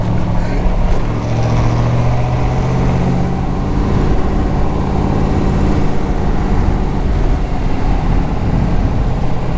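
A 1966 Corvette Stingray 427 Turbo Jet convertible cruises along with a loud, continuous engine drone and road and wind roar that stays constant throughout.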